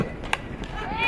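A single sharp crack of a softball bat fouling a pitch straight back, brief and fairly loud, amid crowd murmur and commentary at a softball game.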